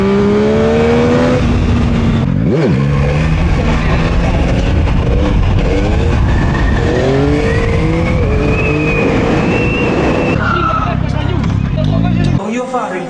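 A car on a closed road in Naples revs hard and accelerates, its engine pitch climbing through several rising sweeps, loud and close, with voices and chatter mixed in.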